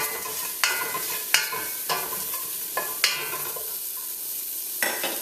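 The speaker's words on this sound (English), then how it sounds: "Give that a quick stir." A spoon stirs stewed pork with black pepper in a pot, scraping in six sharp separate strokes over a soft, steady sizzle, close and alone with no voices.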